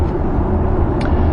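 Audi A8 long wheelbase cruising just under 100 km/h behind another car, a steady low cabin rumble of road and engine noise with no change in pitch, heard briefly and without talk.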